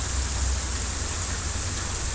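Steady rain falls in southeast Texas during a drought, a continuous even hiss of drops on surfaces, moderately loud and with no break.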